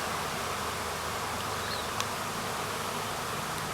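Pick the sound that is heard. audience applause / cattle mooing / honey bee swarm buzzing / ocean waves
honey bee swarm buzzing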